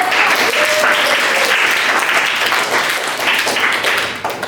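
A classroom full of students claps together in a loud, dense burst of applause that holds steady for several seconds and then begins to fade at the end.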